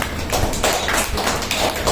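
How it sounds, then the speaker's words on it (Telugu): Children and a church congregation clap hard and fast during a worship service, a dense, steady patter of many hands filling the room without pause. "పిల్లలు అడగండి, గట్టిగా కొట్టండి చప్పట్లు."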